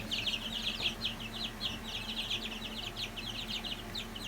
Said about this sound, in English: we got 10 more little itty bitties in here, day-old chicks. These are white layers.